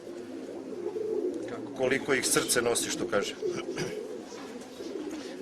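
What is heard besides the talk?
pigeons cooing in a loft cage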